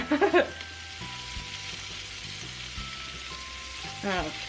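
Shrimp frying in butter in a pan, a steady close sizzle with occasional pops and crackles, heard alongside background music and a brief voice.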